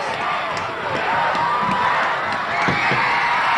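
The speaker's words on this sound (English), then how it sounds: "The crowd getting into it." Crowd at the finish of the 1985 Colorado 3A high school football state championship, Loveland Indians over Grand Junction Tigers, a broad steady roar of cheering and shouting that fills the whole stretch at even loudness.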